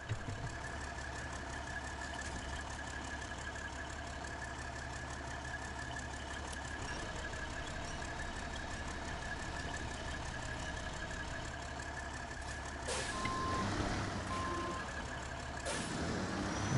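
Steady low drone of a truck engine idling and labouring in the video game Snowrunner, continuous and even throughout, with a faint high tone near the end that could be reversing beeps.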